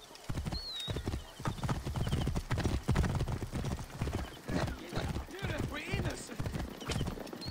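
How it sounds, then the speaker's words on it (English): Horse hooves clip-clop in a fast, steady riding rhythm in the video game Assassin's Creed Origins, with a brief whinny near the start and someone talking over the hoofbeats. "Hey, Bayek, learn how to drive your horse. Or ride your horse, rather."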